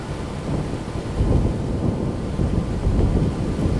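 Minecraft thunderstorm with a heavy low rumbling roll of thunder over steady rain, loud and continuous with surges in the middle and near the end, no talking.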